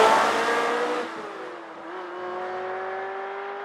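A 1996 Ferrari F355 GTS engine revs loudly and close up, the pitch sweeping down and then settling into a steady, sustained drone with no voices.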